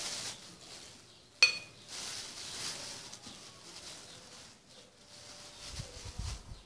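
A metal spoon gives a sharp clink against a bowl while a spoonful of baking soda is added to a mixture, followed by faint scraping and light stirring sounds nearby.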